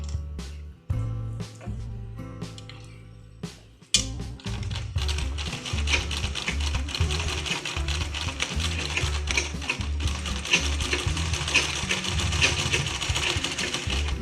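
Sewing machine stitching fabric for a blouse latkan, its rapid mechanical clatter running steadily and close, with brief pauses in the first few seconds before continuous stitching.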